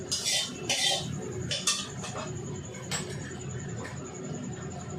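A metal kadai (wok) being scraped clean after burnt oil is discarded gives off a few close clinking, scraping metallic strokes, then quieter handling.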